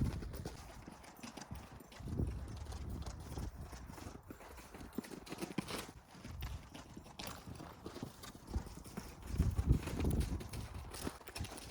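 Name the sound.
horse hooves at a forward walk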